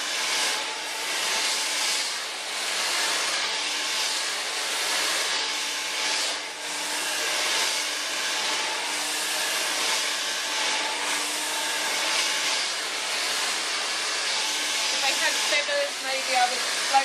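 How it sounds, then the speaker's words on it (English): A hair dryer blowing steadily and close while a child's hair is dried forward, a constant airy roar with slight shifts as it moves around the head. "We'll blow dry it forward, exactly the same."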